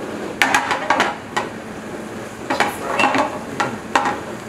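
Chilli basil noodles with tofu being stirred in a pan with a utensil: sharp clinks and scrapes of metal against the pan come in irregular bursts over a faint background sizzle.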